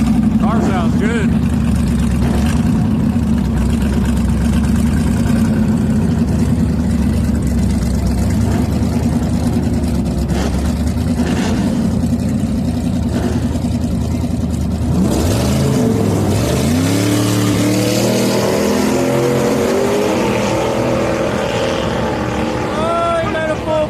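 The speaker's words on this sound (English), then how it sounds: "Car sounds good." A drag racing car at a grudge racing event roars continuously at a loud, steady pitch, then its note sweeps and wavers through rising and falling revs in the second half, with crowd noise and voices underneath.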